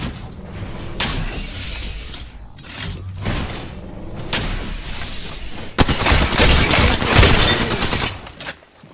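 Gunfire in the battle game Apex Legends, dense rapid shots and impacts in steady loud bursts, growing heavier with a booming stretch near the end.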